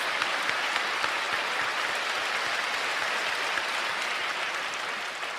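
A church congregation applauds in thanks for a visiting pastor after his sermon at an evening service, a dense, even roar of many hands clapping that holds steady and fades slightly at the end.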